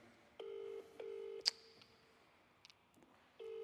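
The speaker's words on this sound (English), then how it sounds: "Lots of ringing." A phone ringback tone repeats in steady bursts of about half a second, with a short gap between them and a sharp click in the middle.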